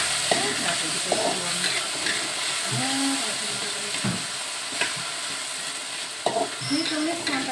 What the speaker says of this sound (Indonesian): Ini tumis sampai harum teman-teman.